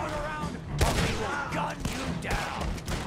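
Gunfire in Red Dead Redemption 2 during a prison break mission: several sharp, loud shots crack at irregular intervals over a steady din of game noise, with a voice talking faintly underneath.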